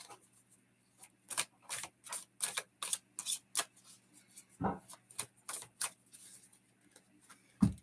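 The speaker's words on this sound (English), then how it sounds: "All right, so I'm shuffling for the third card." Tarot cards are shuffled by hand in a quiet room, a rapid series of crisp riffling snaps and slaps in irregular bursts, close and distinct, with a couple of duller knocks between them.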